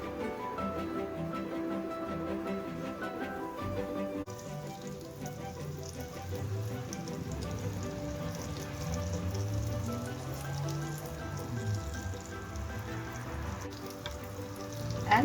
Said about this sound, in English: the oil is heated up and I am going to place this on the pan